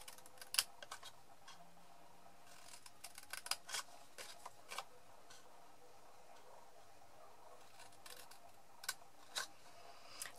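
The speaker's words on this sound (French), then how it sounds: "sur cette deuxième bande, nous allons couper" Scissors snip through a strip of paper at an angle, a series of quiet, crisp clicks scattered irregularly across a hushed room, some clustered in quick runs and others single, with no talking.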